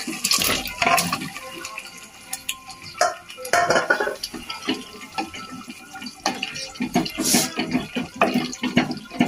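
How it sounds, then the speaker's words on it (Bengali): Beef is stirred with spices inside a pressure cooker, producing a steady run of close scraping and clinking of a utensil against the metal pot, with soft sizzling wet sounds underneath and no talking. "মাংসগুলো, মশলার সাথে একটু নেড়ে চেড়ে দিচ্ছি"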